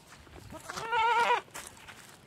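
A village goat gives one clear, close, nasal bleat of about half a second, with faint background sounds around it and no speech.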